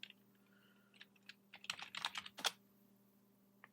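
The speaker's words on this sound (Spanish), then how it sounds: "Introducimos la contraseña de MySQL" Someone types a MySQL password on a computer keyboard: a quiet run of light, close keystrokes, a few scattered taps building to a dense flurry of clicks before stopping, with no talking.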